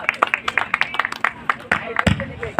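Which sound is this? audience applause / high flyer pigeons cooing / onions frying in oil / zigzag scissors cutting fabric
audience applause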